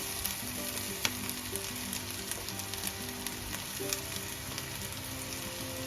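Golden-brown onions and grated coconut sizzle in a pan as they are stirred for spiced scrambled tofu, a soft, even frying hiss with light clicks and scrapes from the utensil, close by and with no voices.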